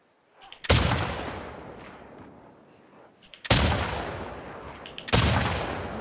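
Gunfire in The Last of Us Part II: three loud, separate shots a few seconds apart, each a sharp blast trailing off into a long echoing decay, with nothing else around them.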